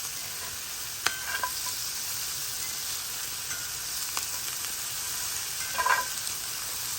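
Mushrooms and onion sizzle steadily in butter in a pan used earlier for beef, a continuous close frying hiss broken by a few light clinks and stirring scrapes.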